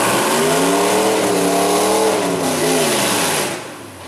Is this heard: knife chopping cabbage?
no